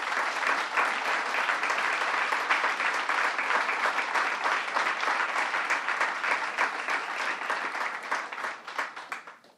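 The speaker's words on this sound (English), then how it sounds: "Let's give them all a round of applause." Sustained applause from an audience in a room at a governor's bill signing, a thick, even roar of clapping that holds for several seconds and then fades out.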